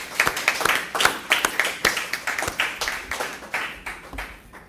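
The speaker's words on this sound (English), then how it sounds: "I want to applaud you" Applause from an audience, with individual claps clearly audible in a quick, uneven rhythm, fairly close and gradually thinning out.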